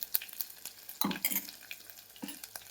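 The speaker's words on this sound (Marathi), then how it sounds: "लगेच भाजणार आहे आपले मसाला" A ground masala paste roasts on a low flame with a quiet, patchy sizzle and repeated spoon scrapes and stirs against the pan, the loudest burst around the middle.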